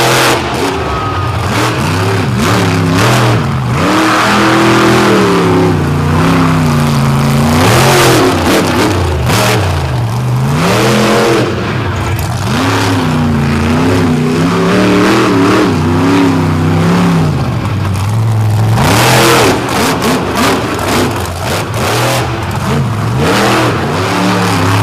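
Monster truck engine roaring and revving hard on a dirt track during a South Bend Throwdown show, loud and continuous with repeated throttle surges, close and dominant throughout with arena crowd noise beneath.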